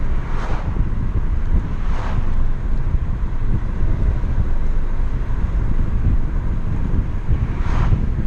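Wind roars steadily into a car driven at 40 mph with both front windows down, a loud, dense rumbling rush buffeting a GoPro Hero 4 Session camera worn on a cap, with occasional brief hissing gusts.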